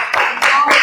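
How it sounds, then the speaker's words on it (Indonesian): Children clapping their hands in a classroom, in a few short bursts of claps that start and stop abruptly, close and fairly loud. "Silakan tepuk tangan."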